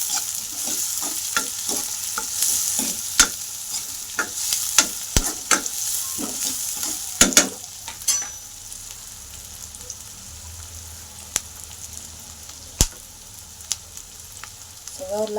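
Curry leaves hitting hot oil for a potato chutney, giving a steady crackling sizzle with sharp pops and spatters, busiest early and thinning out later, close and alone with no talk.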